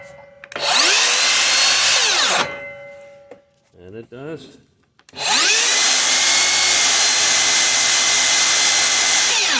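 A Makita LXT X2 brushless rear-handled circular saw on 4Ah batteries spins up sharply twice, each run a loud high-pitched whine that winds down, with a brief spoken remark in the pause between runs.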